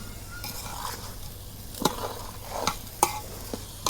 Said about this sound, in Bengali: চালগুনা এখন আমি সুন্দর করে ভাজা নিতেছি তেল দিয়ে।